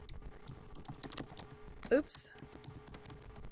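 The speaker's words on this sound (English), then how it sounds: "now you can go ahead and you can start typing away" Quick, irregular clicks of typing on a computer keyboard, close and fairly quiet, with a brief louder keystroke burst partway through and a person speaking briefly.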